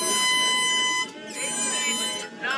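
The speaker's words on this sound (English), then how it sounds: "Freedom of speech, it applies to air horns too." A loud, sustained air horn blaring with a buzzy harmonic tone, briefly dipping twice before resuming.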